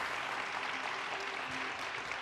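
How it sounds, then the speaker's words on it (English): A town hall audience applauds its panelists with steady, even clapping from many hands, filling the room without a break. "please give these panelists a round of applause for taking time out of their evening tonight"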